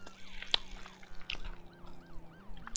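Sirens in the video game ER:LC: a faint, repeating wailing siren sweep with a few sharp clicks and taps over it.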